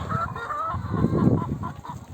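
Several chickens cluck and murmur nearby, overlapping low calls in an uneven, continuous chatter.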